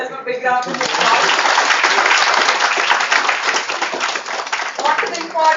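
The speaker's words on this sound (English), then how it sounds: "big round of applause." Applause and clapping from an audience at a mental wellness club inauguration, a dense, sustained burst of many hands that runs steadily for several seconds before tapering, with voices faintly present at the start and end.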